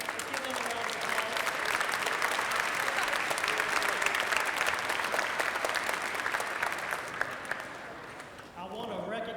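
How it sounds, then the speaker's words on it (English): Sustained audience applause at a school Veterans Day program, a thick, even roar of many hands clapping for several seconds before fading as a voice begins speaking at the end. "Let's give them a round of applause."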